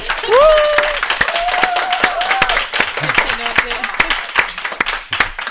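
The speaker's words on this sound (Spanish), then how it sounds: "Aplauso para todas ellas." Studio audience of several hundred at a live Spanish television show in Valencia clapping, bursts of applause under a loud speaking voice and a little sung or exclaimed sound.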